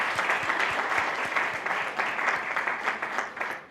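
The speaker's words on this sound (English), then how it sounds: "Let's have a round of applause for them." Sustained audience applause at a writers festival reading, steady and fairly loud throughout with dense overlapping claps, fading slightly at the end.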